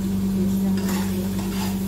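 A spoon stirs chicken biryani seasoned with pepper and biryani masala in a hot pot, close by, with a steady low sizzle and soft scraping over a short stretch.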